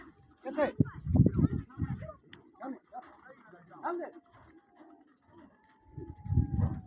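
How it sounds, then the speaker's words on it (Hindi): Pigeons taking off and flying during a pigeon-flying match, heard as short bursts of flapping and faint calls between stretches of nearby talking voices. "कबूतर उड़ रहे हैं"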